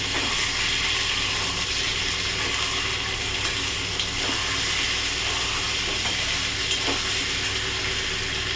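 Potatoes with ginger paste and salt sizzle steadily in a pan as they are stirred, giving occasional scraping clicks against the metal over a constant hiss.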